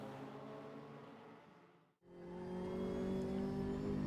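McLaren 570S GT4 race car with a 3.8 liter engine, driven in RaceRoom: a continuous engine hum fades briefly to near silence, then surges back louder with rising harmonics and holds steady.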